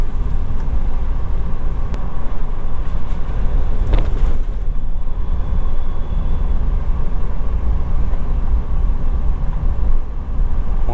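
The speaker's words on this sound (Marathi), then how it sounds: "मोठी खडी आली की आवाज वेगळा." A vehicle rolls over a coarse, loose gravel stretch of the NH166 Ratnagiri–Nagpur national highway near Sakharpa–Amba during the monsoon. It makes a steady, close, crunching rumble with wind buffeting throughout and no talking.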